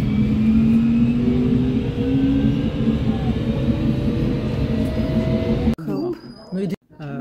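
A train running between stations, a steady loud rumble with a rising whine, heard from inside the carriage, ending in a sudden drop as voices talk nearby.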